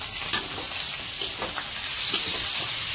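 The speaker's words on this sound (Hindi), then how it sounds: "अभी इस पे हम चिकन डाल रहे हैं, ये अभी थोड़ा हिला लेंगे हम।" Chicken pieces sizzle steadily in a spiced pan as they are stirred, a close continuous crackling fry with a few soft scraping pulses from the spoon.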